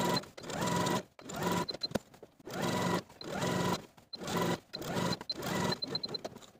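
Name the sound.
sewing machine stitching fabric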